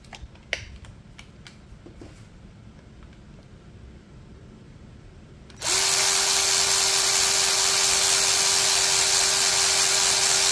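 A DCK KDPB02-10 cordless ratchet wrench spins up and runs steadily at full speed, a loud continuous high whine that starts abruptly after a few seconds of faint clicks and handling noise.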